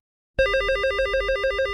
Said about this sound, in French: que le téléphone sonne chez les pompiers